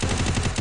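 A rapid burst of UMP submachine gun fire in the Free Fire video game, loud and close, a continuous stream of shots with no pauses.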